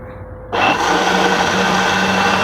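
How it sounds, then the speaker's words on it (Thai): A blender whirs into loud, steady motion after a brief quiet hum, blending pumpkin soup, its motor droning continuously to the end. "เปิดเครื่องปั่นนะครับ"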